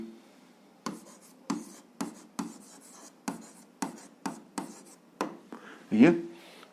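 Pen strokes on paper while working an algebra exercise, a series of short, evenly spaced scratches close by, with a voice speaking near the end.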